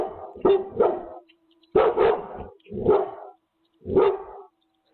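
A dog barking in security footage, five or six loud, close barks in uneven bursts separated by brief silences.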